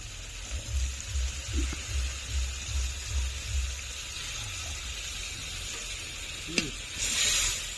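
Paneer masala of ground cashew and almond paste with released oil sizzling in a pan as a little water is poured in, a soft hiss under low rhythmic thumps, a sharp clink, then a louder burst of sizzle.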